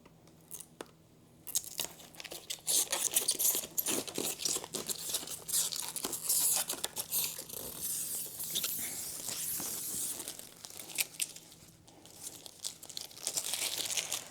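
Protective film being peeled off a new LG UltraGear 32GS75QX gaming monitor, a long run of close crackling, tearing rustles with brief pauses, steady and moderately loud with no talking.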